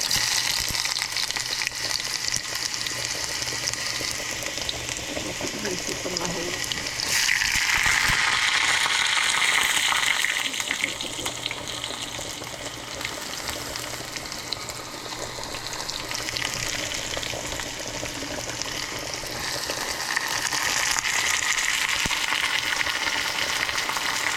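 Onions and curry leaves sizzling and frying in a pan, a steady close hiss that continues without a break for the whole stretch and swells in places, with no talking.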